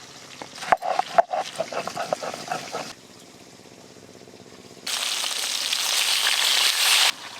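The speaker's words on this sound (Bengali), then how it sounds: "এদিকে মাছগুলো ভাজা হতে থাক" Chunks of a large chital fish sizzle in hot oil in a Bengali kitchen, with sharp spits and pops at first, a quieter stretch, then a loud steady hiss of frying.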